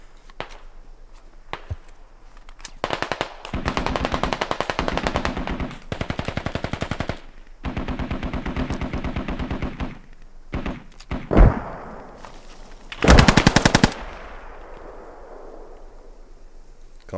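Machine gun fire in the video game Squad, several long sustained automatic bursts separated by short pauses, with a few single heavy shots and thumps between them, loud and close.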